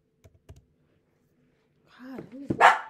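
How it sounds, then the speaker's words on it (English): Dogs bark and whimper indoors, starting with a few faint thumps and then a loud, close burst of barking and yelping near the end. "They won't control their dogs, so my dogs won't shut up."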